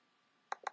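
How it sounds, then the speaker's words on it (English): Two quick, sharp mouse clicks on a MacBook Pro, close and crisp against a near-silent background, followed by the start of a third tap. "Double click."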